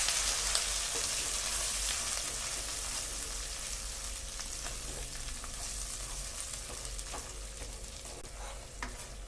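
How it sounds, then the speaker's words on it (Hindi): Cashew and onion paste fries with whole spices in oil for a chicken gravy, giving a continuous soft sizzle with scattered crackles and the scrape of stirring, close and fairly quiet, with no talking. "और इसको इस तरह चलाते हुए 4 से 5 मिनट के लिए भून लेंगे।"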